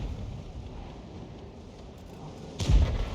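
A tier 10 self-propelled artillery gun in World of Tanks fires with one loud, booming blast near the end, rising from steady low battle rumble and wind-like background noise.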